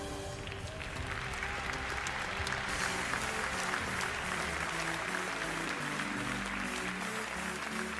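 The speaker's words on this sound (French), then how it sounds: "je crois qu'elle mérite un tonnerre d'applaudissements" Spectators at an agricultural show cattle competition applaud steadily for several seconds, a dense wash of clapping over a humming hall background with a faint low drone.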